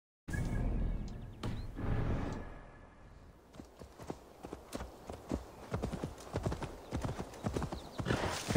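Horse hooves gallop in Assassin's Creed Valhalla, a rapid steady run of clip-clop hoofbeats building close and loud, with a brief whinny and ambient game sound early on.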